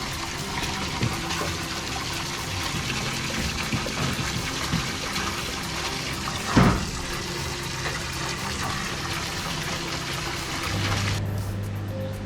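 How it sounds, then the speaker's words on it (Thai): Water splashes and pours steadily from a running TCP Turbo 180-watt energy-saving pump at a koi pond setup, a continuous close gushing with one brief louder splash midway and a mechanical hum near the end. "ตอนนี้ปั๊มติดแล้วนะครับ"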